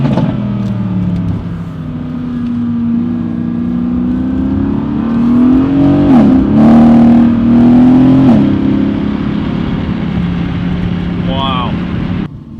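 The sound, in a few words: Audi B9 S4 engine revving with Unitronic intercooler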